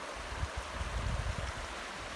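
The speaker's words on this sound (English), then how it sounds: "river's flowing" Steady rushing water of a river in the Catskills flows continuously in a low, soft wash with no voices or other sounds.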